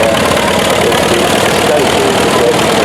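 A vintage tractor engine, apparently a John Deere pulling a four-furrow plough at a Bedfordshire steam rally, runs with a loud, steady, throbbing drone.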